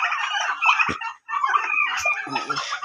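Turkey hens fight and cluck close by in a loud, agitated flurry of squawks and clucks, with a short pause partway through.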